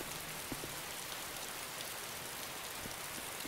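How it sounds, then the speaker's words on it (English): Steady rain in the video game DayZ, a dense even hiss of drops hitting surfaces at night, continuous and fairly close with no voices. "Yeah, it's raining right now, and it's annoying."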